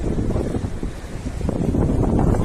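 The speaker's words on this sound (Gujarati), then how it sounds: "પવન બી બહુ આવ્યા કરતો છે" Strong wind buffets the microphone on a rainy seashore during crab trapping, a loud continuous roaring rush with possible surf beneath, steady throughout with no voices.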